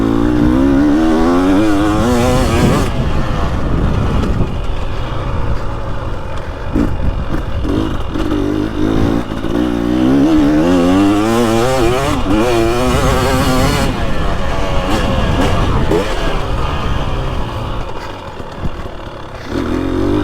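A 2023 Husqvarna TX300 two-stroke dirt bike lugging in third gear around a vintage motocross track, a close, loud, throaty engine that swells and eases as the throttle rolls on and off.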